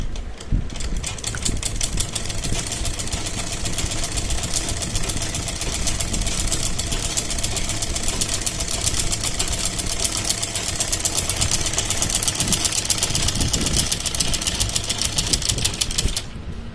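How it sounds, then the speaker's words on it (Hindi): A sewing machine runs steadily, stitching a fine, narrow line along kurti fabric to form pintuck-style tucks; a continuous close-up mechanical whir with rapid needle ticking throughout, no talking. "सिलाई लगाते हैं इसके ऊपर"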